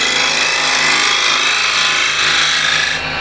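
Steel card scraper with a sharp, aggressive hooked burr drawn across wood side grain, giving a steady, loud, continuous rasping scrape held close for about three seconds, with no talking.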